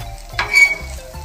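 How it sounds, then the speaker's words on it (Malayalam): Crushed chicken gets stirred into masala frying in a pan, a spoon scraping and sizzling in short strokes, close and fairly clear. "മസാലയും ചിക്കനും കൂടി നന്നായിട്ടൊന്ന് മിക്സ് ചെയ്തെടുക്കാം."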